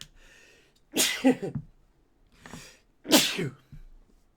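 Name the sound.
sneeze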